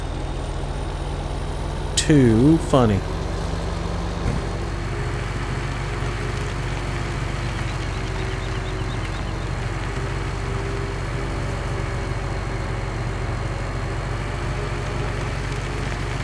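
Big tractor engine in Farming Simulator 17 idles as a steady low rumble throughout, stalled against a small stump, with a brief higher whine and a short knock early on; a person talks briefly over it.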